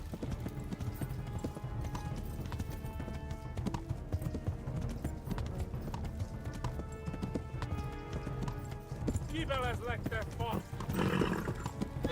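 In the video game Kingdom Come Deliverance, a horse's hooves clop in a steady, rhythmic gait over an ambient game soundscape and music. Near the end a horse snorts or whinnies, and a voice talks over part of it.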